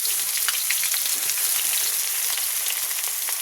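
Onions fry in a pan with whole garam masala, giving a loud, continuous sizzle with crackles and pops close up, steady from start to finish with no voices.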